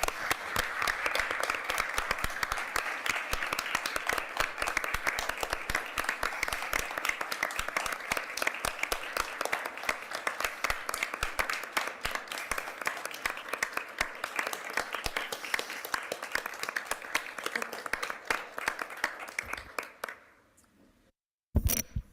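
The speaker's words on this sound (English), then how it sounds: "Let's give a round of applause for Cindy Gus Jensen." Sustained applause from an audience at a retirement ceremony, steady and dense for about twenty seconds before cutting off abruptly, with a brief burst after a short gap.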